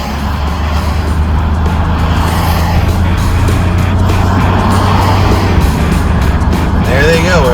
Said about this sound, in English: So you have to wait till you're basically on the freeway, and then you gun it.